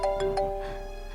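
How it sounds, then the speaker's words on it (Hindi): An incoming call sets off a phone ringtone: a short melodic chime of repeating bright tones, close and clear, with no voices. "छोटे का फोन आ रहा है।"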